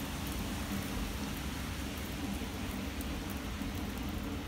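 Steady rain falls as a dense, even hiss with no pauses or changes in level, heard alone without voices.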